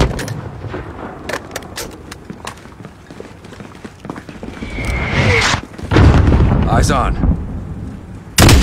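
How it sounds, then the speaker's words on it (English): Enemy gunfire during a Call of Duty: Modern Warfare 2 sniper mission, sharp cracks scattered through the clip with heavier booming bursts near the end, while a voice speaks briefly over the din. "Look for the muzzle flash when they fire!"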